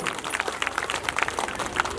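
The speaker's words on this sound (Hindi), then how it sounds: "तालियां" Audience clapping at a neighborhood gathering, a patchy, uneven spatter of individual claps close by, moderately loud with irregular rhythm over two seconds.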